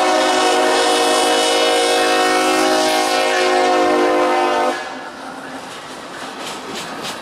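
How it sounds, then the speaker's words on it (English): A B&O Baltimore and Ohio Railroad Heritage locomotive passes with a loud, sustained horn blast lasting several seconds, then drops to a softer rolling rumble as it moves on. "that was the B&O, Baltimore and Ohio Railroad Heritage locomotive"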